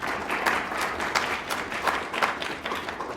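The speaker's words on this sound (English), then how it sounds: "So a big round of applause for the crew that came along for that." Steady audience applause for the crew at a talk on challenges in health, a dense, even patter of many hands clapping with individual claps standing out.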